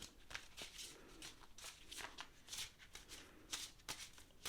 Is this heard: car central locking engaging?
no